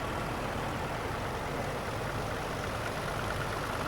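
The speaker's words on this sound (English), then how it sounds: "Another famous British bit of tractor there, the David Brown." A vintage David Brown tractor engine idles steadily at close range, a continuous low rumble with no talking over it.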